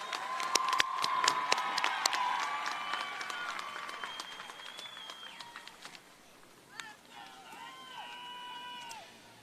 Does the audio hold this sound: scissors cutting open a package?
no